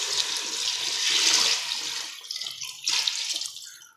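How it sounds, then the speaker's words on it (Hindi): Water pours steadily into a pot of fried tomato paste, a loud gushing, splashing rush that tapers off into a few sizzling spatters. "अब इसमें डालूंगा मैं पानी।"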